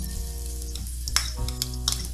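Chopped garlic sizzles in a little cooking oil in a pan, a steady close frying hiss broken by soft stirring scrapes and small pops.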